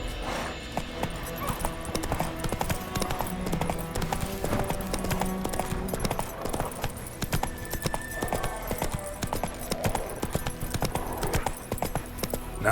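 Roach, the horse in The Witcher 3 game, galloping: steady, rapid clip-clop of hooves throughout, close and continuous, layered with game ambience and an occasional whinny.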